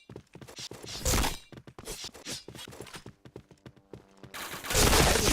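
Gunfire in a shooter video game: rapid bursts of shots in quick irregular volleys, pausing briefly before a louder closing burst, with no talk over it.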